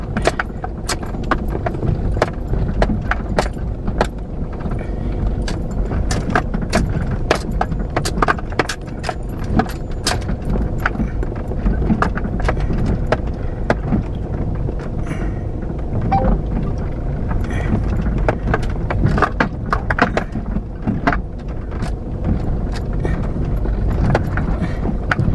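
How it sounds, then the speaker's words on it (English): An old Toyota Land Cruiser grinds along a rough New Zealand high country track, its engine a steady close rumble under constant rattling and jangling from the loose cabin and gear. "I don't think you can beat the old Land Cruisers for this sort of track"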